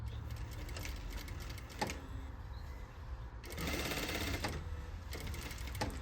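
A sewing machine runs steadily, stitching along a skirt seam on a circle skirt with elastic waistband, a close mechanical whir with brief pauses and speed changes.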